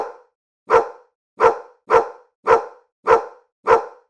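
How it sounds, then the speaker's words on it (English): A dog barks six times in a steady, evenly spaced rhythm, each bark loud, close and sharp, with silence between them. "Did you guess it? It's a dog."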